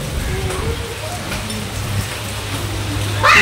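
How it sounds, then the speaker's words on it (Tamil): Rain falls steadily on a rooftop terrace during a storm, giving a constant wet hiss with soft spatters and a brief louder splash at the end. Faint voices sit beneath it. "புது மழை, புதுசாக மழை பெய்யுது"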